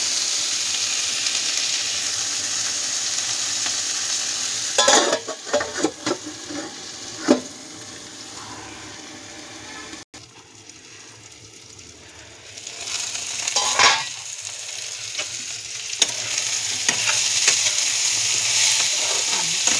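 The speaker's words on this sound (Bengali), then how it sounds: "সবজিটা হয়ে গেছে পেঁয়াজ ভাজা ক্যাপসিকাম ভাজা হয়ে গেছে" Onion and capsicum sizzle in a hot pan on a gas stove, a steady hiss interrupted by a few stirring scrapes and clatters, then quieter before the frying noise swells again.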